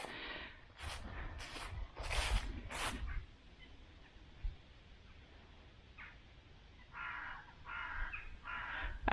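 Several crows caw in a cluster of harsh calls near the village of Horton on a Cotswold Way footpath, followed by quieter, more distant caws after a lull.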